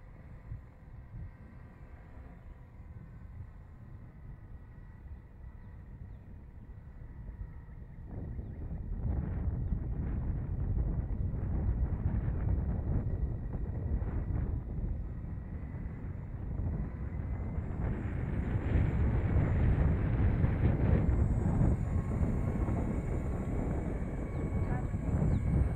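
Strong wind buffets the microphone as a Blade 230s RC helicopter flies outdoors, a continuous loud low roar that swells and gusts harder partway through, with no talking.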